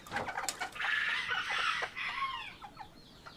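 Chickens, including a blue rooster and hens, cluck and call nearby in a series of loud, overlapping squawks and short crowing bursts, with no speech.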